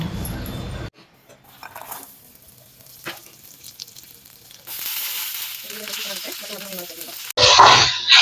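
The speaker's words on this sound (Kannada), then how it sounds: "ಅದಕ್ಕೆ ಎಣ್ಣೆಲಿ ಹುರ್ಕೊಂತಿದ್ದೀನಿ" Garlic, ginger, onion, cinnamon, cloves and cardamom fry in oil for a fenugreek-leaf pulao. Loud, close sizzling opens and closes the stretch, with a quieter middle of faint stirring, utensil clinks and brief talk.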